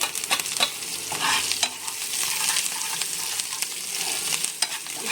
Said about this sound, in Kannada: ಒಗ್ಗರಣೆ ಸೊಪ್ಪು ಹಾಕ್ತಾ ಇದ್ದೀನಿ